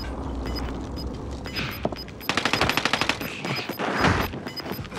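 Gunfire in a Warzone match: bursts of rapid automatic shots, loud and close, with a dense rattling volley in the middle and scattered heavier reports around it.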